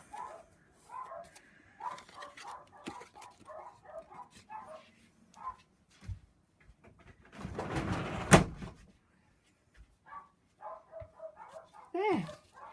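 Dogs barking indoors in bursts, mixed with someone talking nearby and a loud rustle of paper or packaging partway through.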